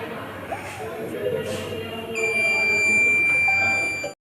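A buzzer alarm on smart glasses built to keep drivers awake sounds a steady, shrill electronic tone that starts halfway through and holds loudly over faint room noise before cutting off abruptly.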